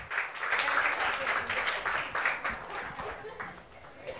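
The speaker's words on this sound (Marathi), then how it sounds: "परत एकदा जोरदार टाळ्या होऊन जाऊन देत मॅडम करता आणि प्रियम करता" An audience at a vote-of-thanks event claps in a broad, fairly soft wash of applause that rises early and gradually thins toward the end.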